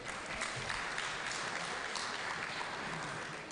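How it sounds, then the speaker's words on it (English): Audience at a public commission of inquiry applauding a newly introduced timekeeper, steady dense clapping from a crowd held at an even, moderate level throughout, with no speech over it. "please, ladies and gentlemen, put your hands together for Lorraine"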